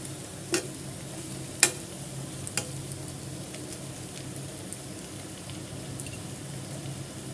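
Taro root (seppankizhangu) fries in oil with a soft, steady sizzle, broken by a few sharp scrapes and taps of a spoon stirring the pan, with no talk.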